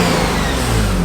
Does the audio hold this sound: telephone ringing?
no